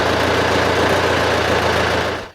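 A restored David Brown 990 tractor engine runs at a steady, loud, close idle with a rough mechanical rumble, then cuts off abruptly at the end.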